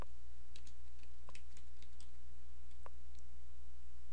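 Computer keyboard typing a form name, a quick run of light, close key clicks in an irregular burst over a quiet steady background hum.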